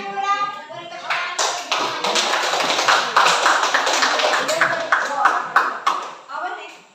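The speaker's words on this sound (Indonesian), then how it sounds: "Beri tepuk tangan." A school class claps hands together in a brisk, dense burst of applause lasting several seconds, close and loud, with a voice speaking briefly before and as it fades.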